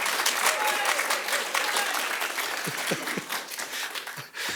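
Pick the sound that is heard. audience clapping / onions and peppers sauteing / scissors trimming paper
audience clapping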